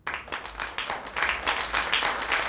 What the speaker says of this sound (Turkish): Bu oyunda rol alan çocukların anne ve babalarını lütfen alkışlayalım